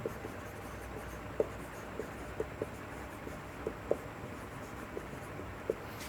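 Pen writing during a grammar lesson, faint steady scratching with a scatter of small distinct taps and strokes spaced irregularly, quiet and close with no talking.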